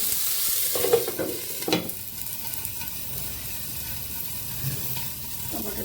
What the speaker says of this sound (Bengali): প্রথমে টমেটোটা দিয়ে একটু ভাজি ভাজি করে দেবো